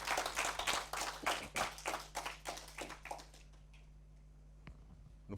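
A church congregation applauding as an offering to the Holy Spirit, a run of rhythmic, fairly close clapping bursts that thins out and fades to near silence after about three seconds.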